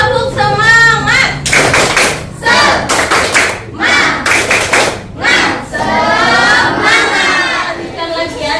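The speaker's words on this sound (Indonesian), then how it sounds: "Oke, tepuk semangat." A school class performs rhythmic 'tepuk semangat' spirit clapping together, with bursts of sharp, patterned claps and group shouts between voiced chanting, loud and close in a classroom.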